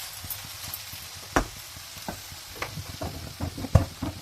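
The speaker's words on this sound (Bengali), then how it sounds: "এইভাবে আমি নেড়ে চেড়ে শাকটা রান্না করব" Kalai greens cooking with rui fish in a pan, stirred with soft scraping and gentle sizzling, with a few sharper utensil knocks against the pan, fairly quiet and with no talking.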